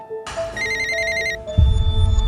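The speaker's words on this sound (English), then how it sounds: "Elizabeth's phone rings." A phone rings with a bright, repeating electronic ringtone during dinner at a Cracker Barrel restaurant. The tone is clear and steady, then a louder low rumble of room noise swells in underneath.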